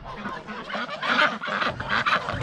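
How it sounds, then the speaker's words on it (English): A flock of ducks and geese being let out honks and quacks continuously, loud and close, a busy overlapping chorus for a couple of seconds. "I have to let the ducks and geese out"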